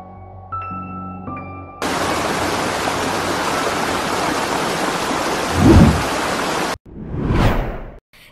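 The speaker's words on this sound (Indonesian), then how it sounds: "itu tadi merupakan banjir yang terjadi melanda beberapa wilayah di Majalengka" Flash flood water rushing through parts of Majalengka after extreme rain and a burst Cimanuk River levee, a loud continuous roar of churning torrent, preceded by brief tones and followed by a surging whoosh.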